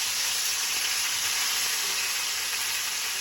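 A steak fries in a pan as butter and thyme are added, giving a loud, dense, continuous sizzle and hiss that stays steady throughout, close up and with no talking.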